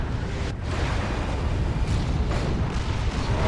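Explosions from the Rocket Run ability in the real-time strategy game Dawn of War 2 during a 3v3 battle, a continuous loud roar of blasts and rumbling impacts with a few sharper bursts, filling the whole stretch with no speech.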